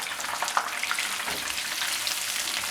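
Crispy fried fish pieces lifted from a kadhai of hot oil into a strainer, a continuous bright sizzle and crackle with small clinks, steady and close with no voices.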